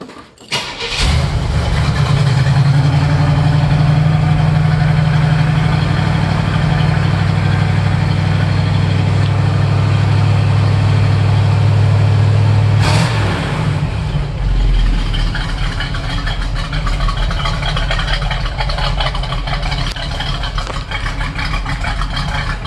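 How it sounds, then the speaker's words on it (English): A 1969 Pontiac Firebird's stock 350 Pontiac V8 with manifolds and stainless true dual exhaust cranks and fires up, then settles into a loud, deep, rumbling idle with a steady low throb; it briefly revs around the middle before idling on. "It's got a pretty decent sound for a stock 350 Pontiac with manifolds on it."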